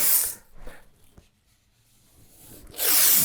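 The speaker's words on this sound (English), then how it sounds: "I'll be using frog tape here to keep any primer from bleeding on my trim" Frog painter's tape is pulled from the roll and pressed onto trim, with a short ripping burst at the start and another at the end and near silence between.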